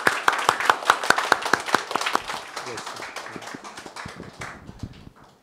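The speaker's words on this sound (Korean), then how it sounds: "큰 박수로 한번 우리 축하합시다." A church congregation gives a burst of sharp, rhythmic clapping that loosens into scattered applause and fades out over about five seconds, with voices murmuring underneath.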